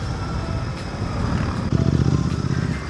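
Continuous GT 650 motorcycle engine rumble in Indian traffic, with traffic noise around it, a steady drone that grows rougher and more pulsing toward the end.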